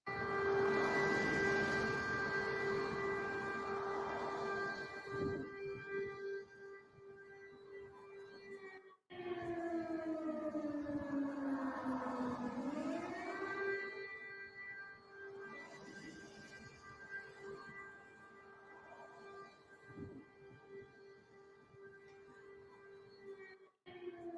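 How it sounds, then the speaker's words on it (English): A loud wailing civil defense air raid siren drones on a steady pitch, dips and swells back up partway through, then holds its long sustained tone again. "Here's more sirens."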